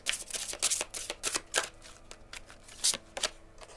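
Oracle cards are shuffled by hand during a tarot-style reading, giving quick, crisp riffling and slapping bursts with small gaps between them. The sound is close and clear, and no voices are heard.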